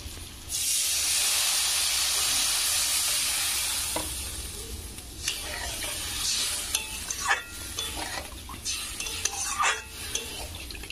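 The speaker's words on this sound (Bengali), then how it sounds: "এবার এখানে আমি জল দিয়ে দেবো।" Water poured into a hot pan of sautéed vegetables and ground spices for a fish curry bursts into a loud steamy hiss that slowly fades into bubbling sizzle, with clinks and stirring taps toward the end.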